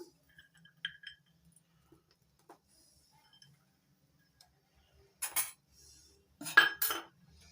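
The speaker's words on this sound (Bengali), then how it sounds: "এবার দিয়ে দিচ্ছি কাজু বাদাম" Cashew nuts dropped into a pan of sago pudding sweetened with date jaggery: faint scattered clinks of a utensil, then two short, crisp clattering bursts near the end, with no talking.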